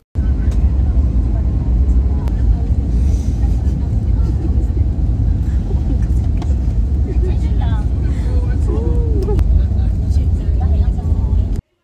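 A passenger airplane touches down at Cebu, a loud, steady roar of engines and rushing air filling the cabin without a break, with faint voices in the background.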